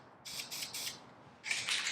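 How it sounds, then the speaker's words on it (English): Spray paint rattle can misting onto a mat to clear overspray during a rifle paint job: three short hissing bursts in quick succession, a pause, then a longer close hiss. "I'm going to spray on the mat just to get rid of overspray"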